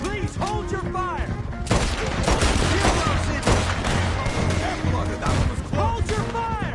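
Rapid bursts of gunfire crack through a chaotic Red Dead Redemption 2 shootout, loud and dense with overlapping shots, while shouted voices cut in between the volleys.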